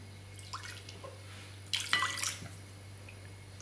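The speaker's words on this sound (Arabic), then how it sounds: "غادي نزيد عليها حتى من واحد الكاس ديال الماء" A glass of water is poured into leftover chermoula sauce: a short, splashing pour of under a second, fairly close, after faint drips and quiet room hum.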